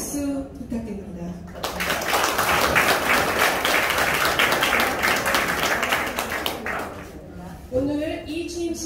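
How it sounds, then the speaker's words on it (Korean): Audience applause fills a Rotary club inauguration ceremony in a hall, a dense burst of clapping that swells after a voice announces the next speaker and fades as talk resumes near the end. "다음 손재윤 총재님께 큰 박수 부탁드립니다."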